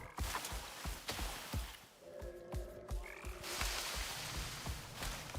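Frogs croak in a forest in the survival video game Icarus, a steady chorus of repeated low croaks under ambient woodland noise with scattered thuds, and no talking.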